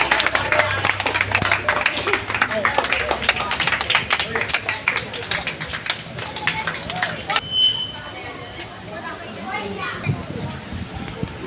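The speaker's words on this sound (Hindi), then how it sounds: "जोरदार तालियों से स्वागत करें इनका" Audience members at a public gathering welcome a guest with scattered, crisp handclaps that are loudest early and then thin out, while a voice talks over the fading clapping.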